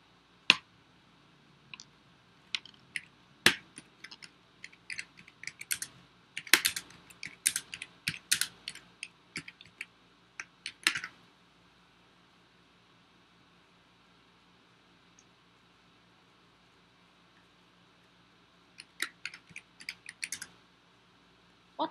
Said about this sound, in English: I have a keyboard here and a mouse.